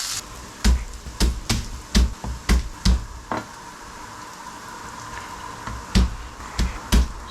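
Garlic cloves are smashed one after another, a series of sharp, close knocks in an uneven rhythm, about a dozen hits with short pauses between them.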